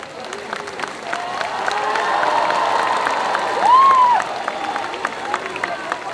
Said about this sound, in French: Je vous propose d'applaudir vraiment